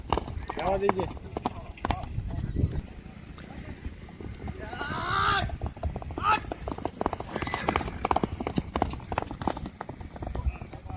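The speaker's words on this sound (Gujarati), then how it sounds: "એક ઘોડો ગયો હોય બીજો ઘોડો આવે છે" Horses' hooves clip-clop on the ground at an endurance-ride vet check in Kutch, one horse passing after another in uneven bursts of near, moderately loud beats with faint voices around.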